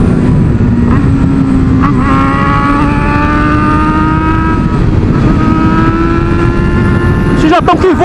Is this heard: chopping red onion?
no